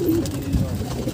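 Pigeons coo low and continuously on a rooftop breeding loft, close and fairly loud in a single short stretch.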